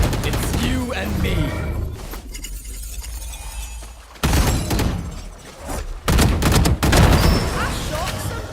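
Gunfire in the tactical shooter Valorant, with bursts of shots and sharp impacts scattered through a busy in-game mix, and loud clusters of fire near the middle and the end over a constant game-sound background.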